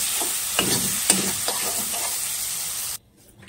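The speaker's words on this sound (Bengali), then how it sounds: "এখানে দেখো পেঁয়াজ ভেজে নিয়ে মশলা দিয়ে কষিয়ে নিচ্ছি" Fried onions and spices sizzle in a pan for an egg curry, with a steady hiss and a few close scraping stirs, and the sound cuts off abruptly near the end.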